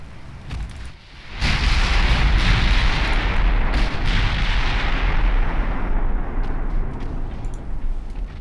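Heavy 6-inch naval guns firing in Ultimate Admiral Dreadnoughts, a loud sustained roar of overlapping booms and rumbling blasts that swells after a brief lull and carries on densely to the end.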